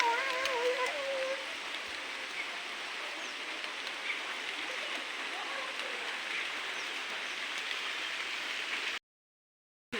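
Heavy rain pours down in a steady, dense hiss, with a faint voice briefly audible near the start, until the sound cuts abruptly to silence near the end.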